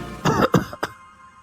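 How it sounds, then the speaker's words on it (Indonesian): Harsh, close coughing in a short burst of three or four hacks with a bit of throat clearing, loud at first and trailing off into quiet. "Terdengar suara batuk-batuk di sebelah kanan menyusul suara berkata"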